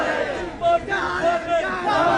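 Crowd of party workers at a political rally in Pakistan chanting slogans, loud rhythmic shouts in unison rising and falling over a couple of seconds.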